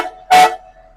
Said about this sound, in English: those horns are so loud because they're true air horns, like a locomotive train has